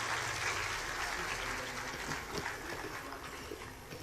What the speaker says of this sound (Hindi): आप सब जोरदार तालियां बजाकर अपनी उपस्थिति का इजहार करें।